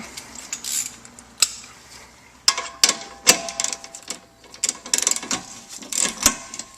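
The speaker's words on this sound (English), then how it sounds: "go ahead and grab your ratchet" An 18mm bolt on a Panhard bar being loosened with a ratchet gives quick metallic clicks and clinks, close and moderately loud, in uneven bursts with short pauses between them and no talking.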